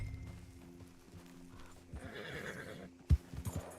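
A horse in the video game Red Dead Online neighs and its hooves clip-clop along, fairly quiet under game ambience, with a sharp thud near the end followed by a few more hoof strikes.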